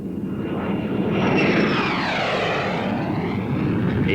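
Air show aircraft, a U.S. Navy F-8U Crusader among them, rush past with a loud, sustained engine roar whose pitch sweeps down as they pass close by.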